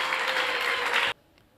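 Church congregation applauding together, a dense, steady burst of clapping that stops abruptly, leaving near silence.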